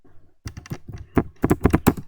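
Rapid typing on a computer keyboard during a database coding lesson, with irregular bursts of crisp key clicks that start after a brief pause and build into quicker clusters, close and alone.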